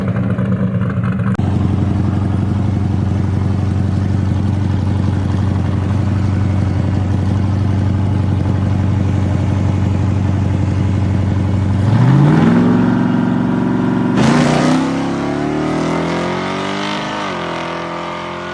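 A drag racing car's engine idles loudly and steadily at the track, then revs up twice in rising bursts before settling back, close and dominant with no talk.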